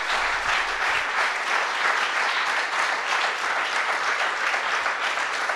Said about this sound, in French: Je vais de nouveau couper vos applaudissements